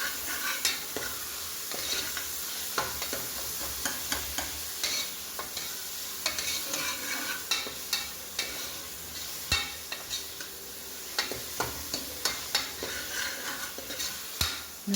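Chopped tomatoes fry in a pan for an amaranth stem sambar, with a steady close sizzle throughout and frequent rhythmic ladle scrapes and taps as they are stirred.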